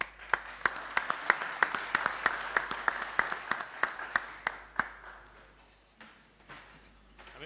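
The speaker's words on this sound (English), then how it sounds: "Let's have a round of applause for Mr." Audience applause at the FIBA U19 Basketball World Cup 2017 draw ceremony as a former national-team player is welcomed on stage: a dense wash of clapping with sharp individual claps, steady at first and thinning out toward the end.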